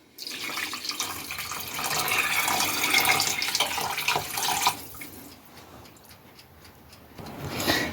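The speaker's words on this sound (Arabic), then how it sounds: "وهلأ راح أحط المي" Water runs from a tap and splashes into a pot holding cleaned chicken pieces for several seconds, then stops, leaving faint ticking and a brief final gush.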